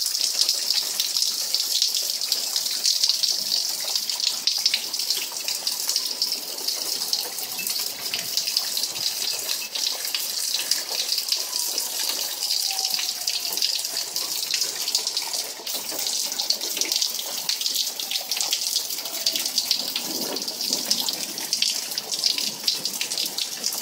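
Floodwater rushes steadily in a constant hissing gush during bad weather on a Missouri farm, where a muddy runoff has become a small river; the flow stays loud and unbroken throughout with no voices.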